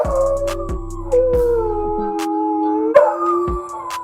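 A white dog howls in long, wavering, voice-like tones, with pitch sliding up and down across several drawn-out calls, loud and close.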